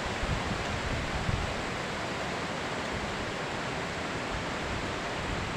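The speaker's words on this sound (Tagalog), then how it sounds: "Lakas po ng hangin." Strong wind gusting through rambutan trees, a dense, steady roaring hiss like rushing air and rustling foliage that fills the whole stretch without pause.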